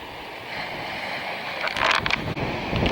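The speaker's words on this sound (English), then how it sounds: "I hope you can see this surf coming in. That is huge." Huge surf breaking at the lighthouse at Muxia, Spain, a steady rushing roar mixed with wind buffeting the microphone, swelling into a louder crash near the end.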